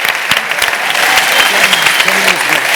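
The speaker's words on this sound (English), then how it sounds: "big round of applause to all of you" Audience applause at a dental event, a dense, loud burst of clapping from a crowd filling the room, steady throughout with a few cheers or voices mixed in.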